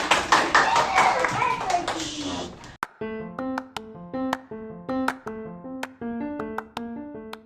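Audience at a school web-radio broadcast claps loudly for a few seconds in a dense burst of applause, which then gives way to a plucked melodic instrument playing a light repeating tune.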